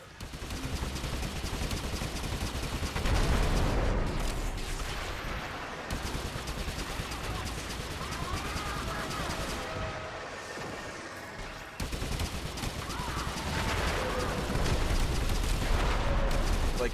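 Dense, continuous gunfire and explosions from the video game Warframe roar throughout, loud and chaotic, with brief drops in intensity.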